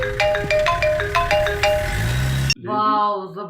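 Mobile phone ringtone, a bright repeating melodic chime in a comedy film scene, playing loudly in short rhythmic notes before cutting to a clearer, closer burst of the same tune.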